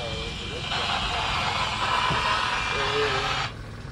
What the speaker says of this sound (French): On a remis le moteur, pas de vent.